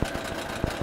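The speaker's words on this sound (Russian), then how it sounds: "Ну а так мотор работает очень хорошо." A used outboard boat motor idles while still cold, giving a brief, steady mid-pitched engine drone with faint rhythmic pulses, close and moderately loud, with no voices.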